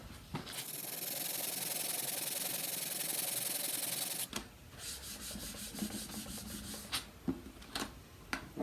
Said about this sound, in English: Some finer sandpaper.